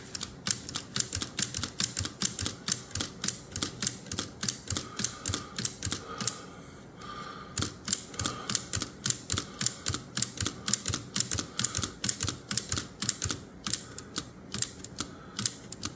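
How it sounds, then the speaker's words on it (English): Crisp, rapid keystrokes on a Remington Portable typewriter being adjusted, sharp mechanical clacks in a steady rhythm with a short pause midway, close and loud. "Backspace adjustment on a Remington Portable typewriter."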